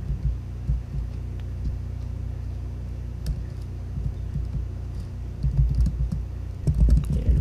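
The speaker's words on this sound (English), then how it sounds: "I'm just gonna type in some real quick" Typing on a computer keyboard, with soft key taps in uneven bursts over a steady hum, ending with a few louder, busier keystrokes.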